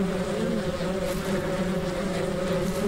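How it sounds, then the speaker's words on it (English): Bees buzz around a hive in the Ranch Simulator video game, a dense steady drone that holds close and loud throughout with no talk. "What's that sound I'm hearing? It's the bees, probably."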